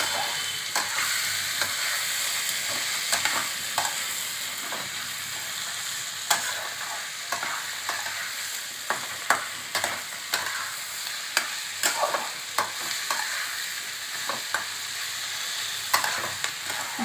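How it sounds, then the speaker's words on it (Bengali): Mushrooms sauté in a pan for a mushroom curry, a constant sizzle broken by frequent, rhythmic scrapes and taps of the spatula stirring them. "মাশরুমগুলো দিয়েও আমি কষতে থাকবো"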